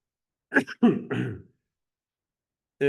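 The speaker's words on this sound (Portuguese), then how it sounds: "vou ter que tossir de vez em quando" A person clears their throat in a few rough bursts, then a short cough follows after a pause; close and fairly loud.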